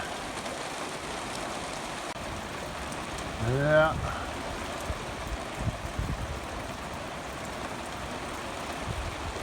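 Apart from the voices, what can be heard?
rain falling on pastures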